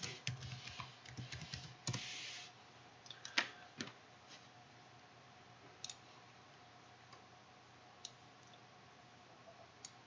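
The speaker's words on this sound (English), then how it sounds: "Push enter, type in the password." A computer keyboard being typed on while entering a password during Ubuntu domain login setup, with a burst of quick key clicks early on followed by a few sparse, isolated key presses, quiet and close with no talk.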